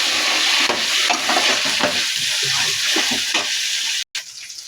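Sliced onion is stirred in a hot pan for chicken biryani, giving a close, continuous sizzle with scraping spoon strokes throughout and a brief cut near the end.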